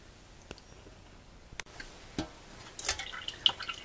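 Water drips from freshly washed purslane left to drain, giving a few sparse, quiet drops and small ticks spaced irregularly over a faint background.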